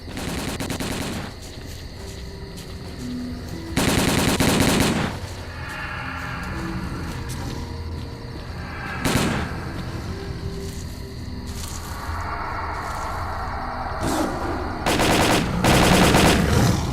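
Gunfire in the shooter game S.T.A.L.K.E.R.: Call of Pripyat: repeated bursts of automatic fire, loud and close, with gaps of quieter ambience between volleys and no talk.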